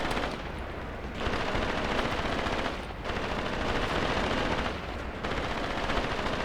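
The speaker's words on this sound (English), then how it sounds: "Everybody's shooting at this guy. And he's shooting at somebody." Machine guns rattle in a Graviteam Tactics battle, long dense bursts of automatic fire broken by brief pauses, loud and continuous with overlapping guns.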